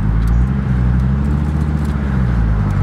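A manual car, a big-turbo 850R, idling and rolling with a steady low engine rumble close by, the gear engagement itself not distinctly audible.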